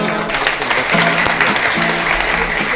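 Audience applause at a live 1970 concert in Washington DC, a dense steady wash of clapping with tonal band sounds running underneath throughout.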